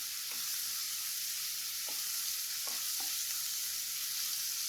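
Masala for Chettinad chicken curry fries in a pan with a steady, hissing sizzle, broken by three or four light stirring taps, up close and without talk.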